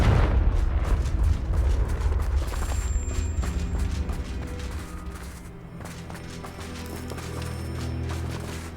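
A Confringo fire spell is cast in the video game Hogwarts Legacy, giving a loud, rumbling blast that fills the whole stretch with dense booming and crackling bursts, dipping briefly midway before surging again.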